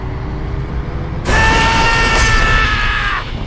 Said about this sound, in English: If I go to like a high speed crash, listen to this